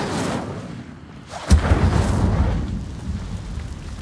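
A fiery Incendio spell cast in Hogwarts Legacy bursts out with a sharp whoosh and crack, then rolls into a loud, rumbling roar of flame that keeps going to the end.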